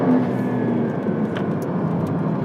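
A 2026 Porsche 911 Turbo S hybrid drives fast, a steady, close engine and road drone with no talk.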